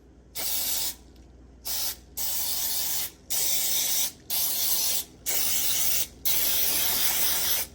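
Six bursts of aerosol spray, each a loud hiss lasting about a second, separated by short pauses.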